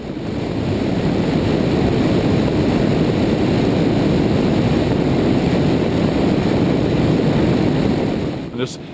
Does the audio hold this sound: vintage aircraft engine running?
yes